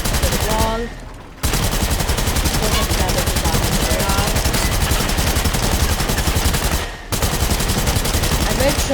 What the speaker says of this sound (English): with first person, then you can shoot the wall.